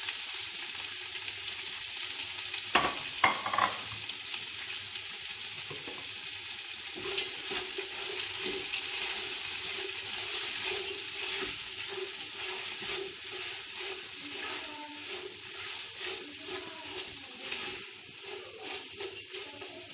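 Onions sizzle steadily in a hot pan while being cooked for chicken majboos, a continuous frying hiss with occasional stirring clatter and a few sharp utensil knocks near the start, no voices.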